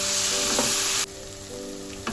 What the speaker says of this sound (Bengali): আমরা দেখছি মশলাটা এখন ভালোভাবে কষা হচ্ছে, এখনো আরেকটু টাইম লাগবে এটা কষাতে।